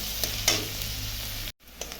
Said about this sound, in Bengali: এর মধ্যে বেগুনটা দিয়ে ভালো করে আমি মিশিয়ে নেব।